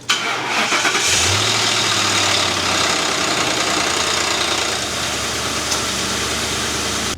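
A Ford Crown Victoria police car with a V8 and a dead, jump-started battery runs in a steady, loud, close engine drone with a low rumble that settles into an even idle, with no voices over it.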